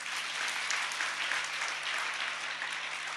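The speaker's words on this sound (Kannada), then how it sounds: "ಚಪ್ಪಾಳೆ ತಟ್ರಿ" An audience at a religious discourse at Veereshwara Math in Nalvattavada claps steadily, a dense, even wash of applause from many hands that lasts the whole moment.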